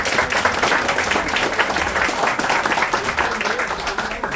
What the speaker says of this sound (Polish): brawa. Gratuluję, Mateusz.